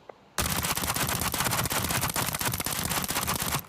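Vector submachine gun in Arena Breakout emptying at a shooting range: a loud, sustained full-auto burst of rapid, evenly spaced shots lasting over three seconds, starting abruptly after a brief quiet moment and heard alone without talk.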